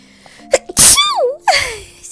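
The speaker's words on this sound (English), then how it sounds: "had to sneeze" A single loud, close sneeze bursts out sharply, followed by a brief vocal trailing sound and a quieter breathy exhale.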